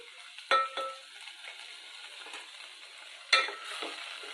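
Tomato and okra fry in a pan for a healthy curry, giving a steady soft sizzle, broken twice by sharp scraping stirs of a utensil against the metal pan.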